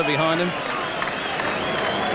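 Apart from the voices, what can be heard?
boxing crowd applauding the fighter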